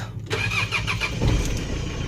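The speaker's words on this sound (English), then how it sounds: "let's start the engine" Mitsubishi 4D56 diesel engine fitted with an electric fuel pump cranks briefly and catches, settling into a steady, close diesel clatter and idle.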